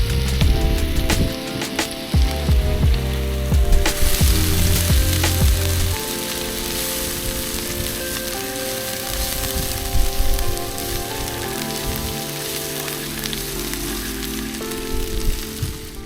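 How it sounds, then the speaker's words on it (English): Loud continuous sizzling of a steak and mushrooms frying on a hot Blackstone griddle with beef tallow, a dense crackling hiss with occasional scraping and spatula clatter, no talking. "So I'm going to put that steak right in the hottest part of the griddle, which is the middle."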